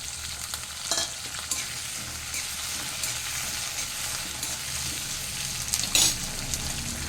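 Chopped drumstick and vegetables fry in oil in a pan, a continuous gentle sizzle with occasional louder scrapes and clatters as they are stirred, close and moderately quiet, with no voices.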